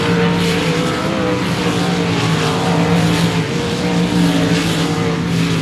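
Race cars lapping a dirt speedway, a steady dense engine roar from several cars at once, loud and continuous with no voices over it.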